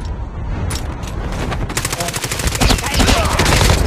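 Rapid automatic gunfire from the mobile shooter game Call of Duty Mobile, starting with scattered shots and building into dense, sustained bursts, loud and close, while players talk over it.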